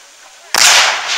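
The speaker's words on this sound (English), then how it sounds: "And some rebels continue to fire off the cannons off the left." A cannon fired at a Civil War reenactment at Genesee Country Museum. After a faint, quiet background, one sudden loud blast booms and rolls away in a long, fading rumble.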